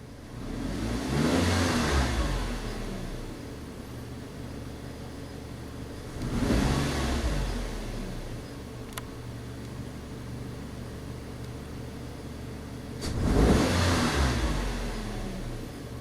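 The engine of a 2003 Nissan Altima with a mass air flow sensor fault revs hard three times on snap throttle, each sharp rise roaring up then settling back to a steady idle, close and loud with no talk.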